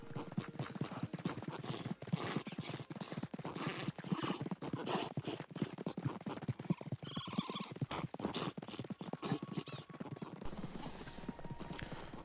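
Horse hooves drum in a steady galloping clip-clop during a long ride in Red Dead Redemption 2, continuous and close, with a brief whinny and faint background game sounds.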